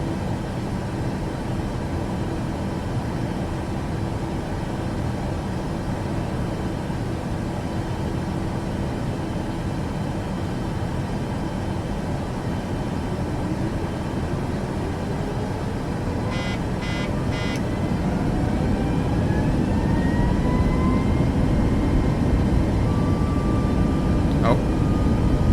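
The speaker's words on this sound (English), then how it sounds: "let's go back in the cockpit and perform our takeoff now" An airliner takes off in Microsoft Flight Simulator 2024 on Xbox: steady engine roar builds as a tone rises through the run, with a few short cockpit chimes partway through.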